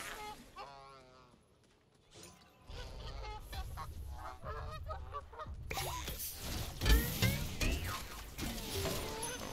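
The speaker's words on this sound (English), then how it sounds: "this giant duck is terrifying" Honking from a giant duck in an online console game comes in loud bursts over gameplay noise, with voices talking throughout.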